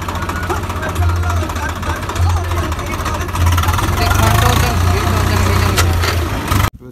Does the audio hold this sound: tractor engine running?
yes